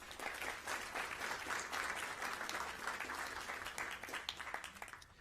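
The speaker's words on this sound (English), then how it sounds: "Let's give them a round of applause." At a school board recognition meeting, the audience gives a round of applause for students, many hands clapping steadily at a fairly faint, distant level.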